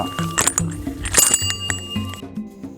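A metal elephant bell clangs repeatedly in forest scrub near an elephant camp, bright clinks coming in irregular bursts, fairly close.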